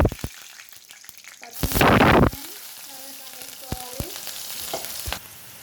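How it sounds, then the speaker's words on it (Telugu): Mustard seeds and cumin frying in hot oil at the start of a spinach curry, a loud burst of sizzling and crackling that swells briefly, then settles into quieter popping with scattered spatters. "ఆవాల జీలకర్ర వేసుకోవాలి."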